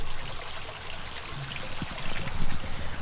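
Small waterfall trickling into a backyard pond, a continuous close splashing and babbling of falling water with steady broadband hiss and occasional louder splashes.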